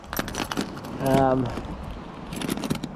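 A bunch of keys jingles in short bright clusters of metallic clinks, scattered across the moment at close range, with a voice speaking briefly in the middle.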